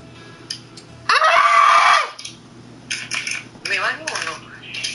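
A child at play lets out a single loud, sustained scream lasting about a second, close by, followed by chatter and small clattering household noises.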